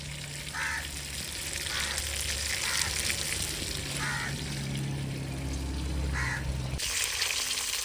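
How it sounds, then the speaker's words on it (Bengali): Rohu fish frying in a pan of oil gives a steady, close sizzle throughout, with occasional soft clinks and stirring and a low background hum. "মাছ ভাজা হয়ে গেছে"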